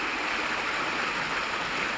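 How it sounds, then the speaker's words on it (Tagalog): Strong stream water rushes in a steady, dense, broadband roar, continuous and fairly close, with no voices. "Lakas ng tubig."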